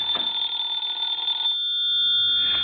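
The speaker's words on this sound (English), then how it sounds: "And let's ring the phone now." A vintage Siemens Milano telephone under repair rings its bell in a loud, close, continuous metallic trill that stops partway through, leaving a fainter lingering tone.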